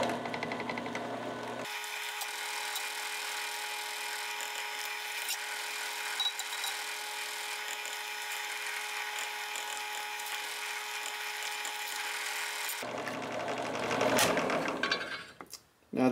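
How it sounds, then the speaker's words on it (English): A drill boring eyelet holes in a Kydex knife sheath, a steady high whine running for about eleven seconds close up, then stopping and leaving brief clatter and handling noise. "Now the initial holes are drilled"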